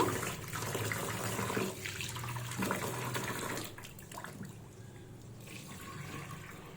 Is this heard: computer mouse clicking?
no